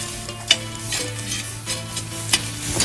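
Embers in a campfire are raked back, giving a soft crackling hiss with a few sharp scraping clicks and knocks close by, heard without speech.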